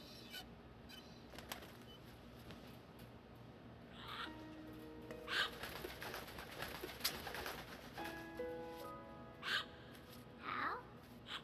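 A pigeon released to fly in Metal Gear Solid 2, with soft coos and bursts of wing flapping against a quiet game ambience; several short flutters and calls spread across the clip.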